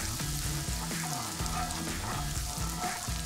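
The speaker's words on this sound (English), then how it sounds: "We're just sauteing this garlic and butter" Garlic sautéing in butter in a pan, a dense, even sizzle and crackle that stays loud and close for the whole stretch with no talking.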